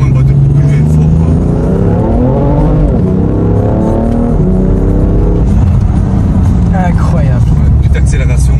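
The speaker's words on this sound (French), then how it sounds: "Petite accélération en respectant les limites de vitesse." A BMW M3 F80 tuned to Stage 3 with over 700 hp accelerates, its engine note climbing steadily and loudly from up close while people talk over it.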